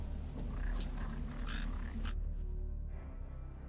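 A frog croaks in Final Fantasy XV, giving a few loud, close, rasping calls that stop abruptly and leave a quiet, hushed background.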